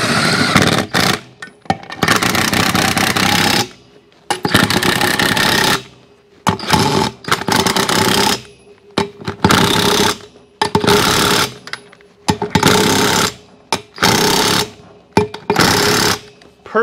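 An impact wrench tightens the wheel nuts on a motorcycle in a garage. It fires about eight loud, rattling bursts of a second or two each, separated by short pauses.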